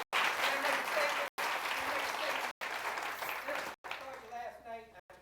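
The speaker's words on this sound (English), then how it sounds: "A round of applause for Senator Paul." An audience at a forum applauds Senator Rand Paul, a dense, steady clapping from a crowd that runs through the clip with brief cut gaps and thins toward the end as voices rise.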